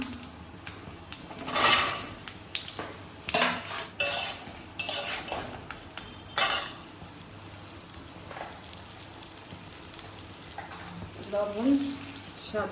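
Mango pieces for a homemade pickle go into a metal pot with clattering knocks and scrapes of a utensil, set against running water and kitchen background noise.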